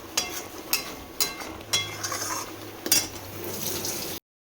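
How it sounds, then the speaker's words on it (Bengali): Vegetables stir-fried in a pan for fried rice: a spatula or utensil clinks against the pan in sharp, irregular knocks over a low sizzle, close by and with no speech. "এবার হবে এখানে সবজি ভাজা।"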